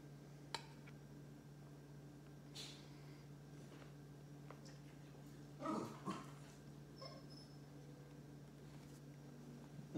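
A nervous dog with anxiety whimpers and yips faintly indoors, a few short, high whines scattered over steady background hum, with a slightly louder burst midway.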